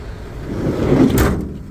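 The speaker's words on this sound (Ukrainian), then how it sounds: "Дверцята файно закриваються." A Mercedes Sprinter van door swings shut with a solid thud, followed by a brief metallic click of the latch, heard close up with no talking.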